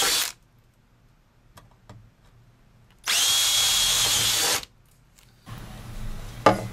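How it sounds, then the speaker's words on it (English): A power drill bores holes for mounting screws in the sidewall of an electronics box for a solar-powered weather station, in a brief opening burst, a steady loud run of about a second and a half, then a rougher final burst after quiet handling. "Now let's drill a couple of holes for those mounting screws to go in."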